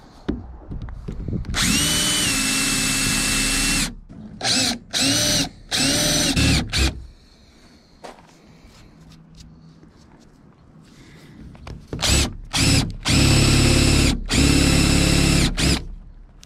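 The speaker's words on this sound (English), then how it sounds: "I'm going to use a 1/2 inch drill" A power drill with a half-inch bit bores holes during work on a Farrier F25C trimaran, running in several loud sustained bursts with short pauses between, in a quiet workshop.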